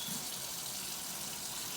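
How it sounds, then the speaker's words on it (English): Tap water running steadily into a sink for hand washing before a wound dressing change, a continuous broadband hiss that stays even throughout with no talking. "I will now turn on my water to warm"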